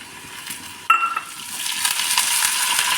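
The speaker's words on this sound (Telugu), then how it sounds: "వాటితో పాటు కరివేపాకు కూడా మంచిగా వేగుతుంది" Curry leaves and lentils hit hot oil with a sudden sizzle about a second in, settling into a steady, close crackling fry for a Malabar spinach (bachhali) curry.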